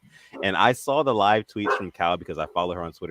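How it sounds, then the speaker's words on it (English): A dog barks intermittently in the background, under steady close-up talking that dominates throughout. "Excuse my dog in the background"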